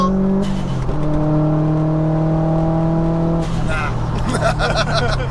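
A 488bhp Subaru WRX STI accelerates hard through the gears with a loud, raspy, rally-car engine note, revs climbing in steps with a gear change and a burst of pops and crackle near the end, close up from inside.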